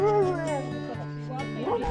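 Alaskan husky sled dogs kept in pairs in kennel pens at an outdoor camp in Finnish Lapland yip and whine in close, high, wavering barks and howling cries.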